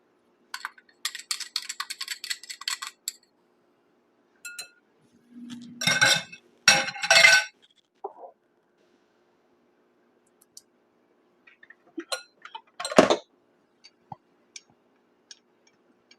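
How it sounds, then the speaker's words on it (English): Butter and eggs beaten in a bowl, with a fast rhythmic clinking of a utensil against the bowl, then a few heavier scrapes and knocks between quiet gaps. "I am going to beat my butter and my eggs."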